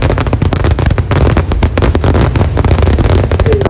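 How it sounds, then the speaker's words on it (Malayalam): Dense, rapid fireworks bursts at a village temple festival (Nenmara Vela) in Kerala, a loud continuous barrage of cracks and booms with no pauses. "ഒട്ടും പ്രതീക്ഷിക്കാത്ത നേരത്ത് കൊണ്ട് വെടിക്കെട്ടിന് തീ കൊളുത്തി."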